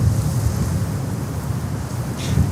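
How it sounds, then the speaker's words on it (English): Strong wind gusts at JFK airport during an arctic blast, a steady low roar with buffeting rumble throughout, no voices. "the wind gusts, they get stronger and stronger"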